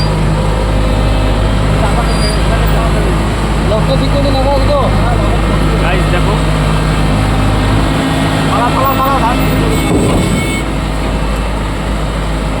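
A combine harvester is driven up out of a river onto a trolley, its engine a loud, steady, close drone with a low rumble that holds for the whole stretch while someone talks over it.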